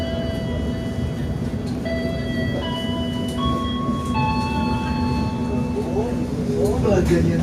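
Passenger train of PT Kereta Api Indonesia arriving at Surabaya Gubeng station, a steady loud rumble with sustained tonal hums and rising brake squeals toward the end, under an onboard announcement voice.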